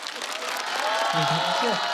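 Studio audience applauding a stand-up comedian on a televised comedy competition stage, steady dense clapping throughout with a singing or voice-like tone rising underneath near the end.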